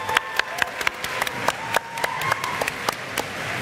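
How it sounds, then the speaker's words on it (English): Audience applause at a Nobel Conference question-and-answer session: scattered, fairly faint hand claps with distinct individual slaps in an uneven rhythm, heard alone without talk. "And I actually applaud for all of us."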